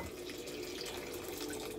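Hot milk poured from close by into a pot of mashed potatoes, a steady, even liquid stream that runs without a break for the whole short stretch, with no talking.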